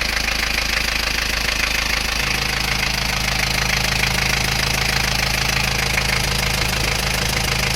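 Isuzu Panther 2.3 diesel engine idling with its valve cover removed, giving a close, continuous clattering knock and steady rumble that holds an even rhythm throughout.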